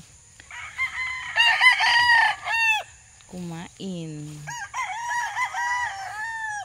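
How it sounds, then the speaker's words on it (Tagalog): A rooster crows loudly nearby at a poultry farm, with chickens clucking around it and a brief voice speaking between the calls. "Ayan po ang ating mga alagang manok."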